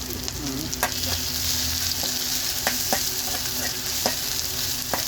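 Garlic, ginger and green chilli fry in hot oil just after mustard seeds finish popping, cooked inside a lorry cab: a loud, continuous sizzle punctuated by several sharp spoon taps and scrapes against the pan.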